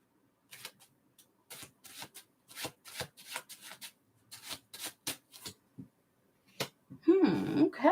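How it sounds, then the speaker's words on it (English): Tarot cards shuffled by hand in short, crisp riffling bursts separated by brief pauses, close and fairly quiet, ending in a longer, louder rustle. "Y'all heard me shuffle, okay?"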